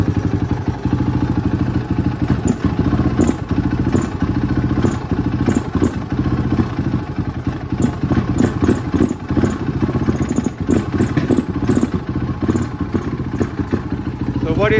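A motorcycle engine runs steadily after its carburetor has been cleaned, a loud, close, rapid thumping idle with rattling clatter throughout.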